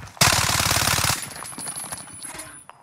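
Rapid burst of automatic gunfire on Rebirth Island, a loud close stream of shots lasting about a second, followed by scattered fainter shots and clatter in the distance.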